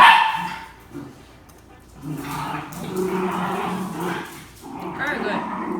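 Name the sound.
dogs barking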